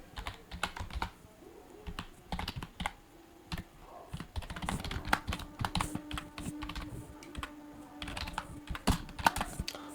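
Fast, irregular clatter of keys on a computer keyboard while code is typed, close and fairly quiet, with bursts and short pauses and no voices.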